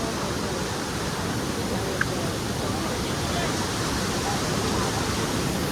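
Kalu Waterfall in the Malshej Ghat valley sends rushing water down in a constant, loud roar that stays even and unbroken throughout, with no voices over it.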